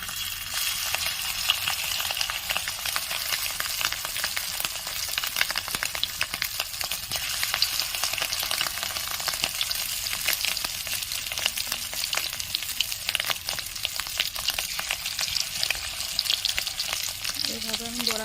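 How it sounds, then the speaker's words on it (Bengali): Fish roe fritters fry in mustard oil in a kadai with a steady, close, dense sizzle and bubbling that keeps going without a break. "এইভাবে আমি বড়াগুলো দিয়ে দেবো একটা একটা করে।"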